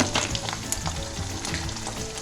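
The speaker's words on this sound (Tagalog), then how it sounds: "Kumukulo." Food bubbles and sizzles steadily in a hot pan, a continuous crackling fry heard up close with no talking.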